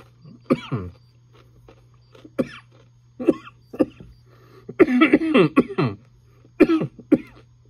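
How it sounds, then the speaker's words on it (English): A series of sharp, close coughs from eating extremely spicy pork rinds, in uneven bursts, with a longer run of hacking in the middle before more single coughs. "It's making me cough."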